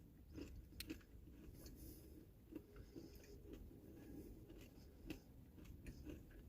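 Crunchy chewing of a carnivore meat bar, with steady close-up mastication and small crisp bites breaking through at irregular intervals, fairly faint and with no talking.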